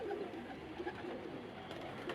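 A hen pigeon held in the hand gives soft low coos, faint murmurs repeating under a steady background hiss.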